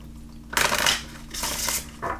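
Tarot cards shuffled by hand in two close, crisp bursts of riffling and rustling, a short pause between them and a brief final flutter at the end.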